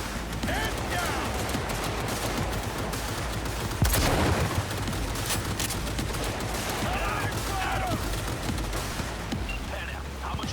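Sustained gunfire from a Cyberpunk 2077 firefight roars through a dense, continuous barrage of overlapping shots, with one heavier blast partway through and no letup.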